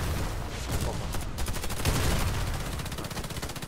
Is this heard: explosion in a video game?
yes